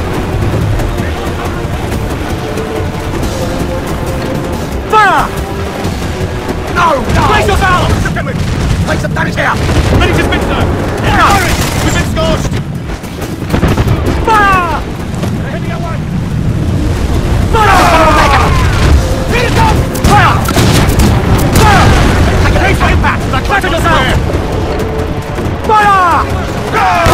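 Ship cannons boom in the video game Assassin's Creed 4 during a naval battle, heavy loud blasts repeating throughout amid dense battle noise, with shouting voices over the top.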